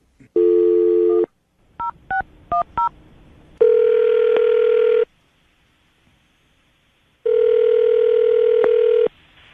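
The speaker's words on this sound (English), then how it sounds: "I'm going to dial the phone number right now, see if we can get her on the phone" A phone line tone sounds, then a quick series of touch-tone dialing beeps, followed by two long steady ringback tones separated by a pause.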